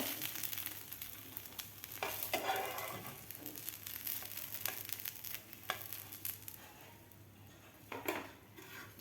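Varai and potato dhirde, fasting pancakes, fry in a pan with a faint steady sizzle, punctuated by occasional scrapes and clinks of a spatula lifting them out.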